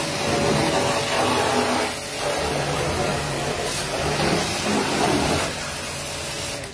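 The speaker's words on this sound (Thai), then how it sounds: "ตัวนี้สามารถปรับกระจายได้พี่ดูความแรงมัน เดี๋ยวผมลองใส่กระป๋องพรมให้ดูนะพี่นะ" A 400 bar high-pressure washer with a foam canister attached spraying hard, giving a loud, continuous rushing hiss with a motor drone underneath that surges and dips a few times; no talking.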